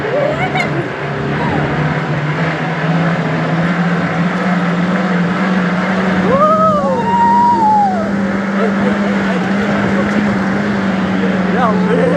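A four-wheel-drive vehicle with four-wheel drive engaged grinds over desert dunes at Osian near Jodhpur. Its steady engine drone runs throughout, with excited voices and shouts over it.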